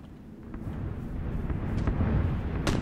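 A red-zone bombing strike in PUBG Battlegrounds rumbles as a deep, rolling explosion, with a sharper distant blast near the end and no voices.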